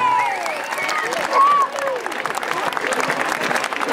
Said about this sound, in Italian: Il super applauso del pubblico, ancora una volta, bravi!